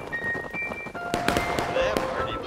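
Artillery in the Civil War multiplayer game War of Rights: two or three sharp booming cracks land amid busy battle noise and whistling tones, fairly loud.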